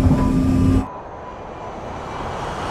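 Airliner engines roaring loudly at takeoff power, then abruptly dropping to a softer, steady broadband rush as the aircraft lifts off, with no talking.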